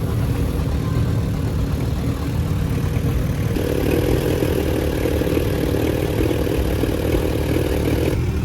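Farmall tractor with a gray hood idling nearby, a steady low rumbling engine drone that holds even and unbroken, with a slight shift in tone partway through and no voices.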